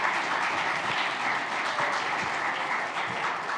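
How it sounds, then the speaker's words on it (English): Steady applause from a crowd, sustained clapping throughout without pauses. "could you give her a big round of applause?"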